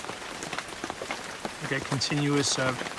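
Rain patters on the awning of a pickup truck camper, a steady close hiss of drops under a person speaking, the talking carrying on over the continuous downpour.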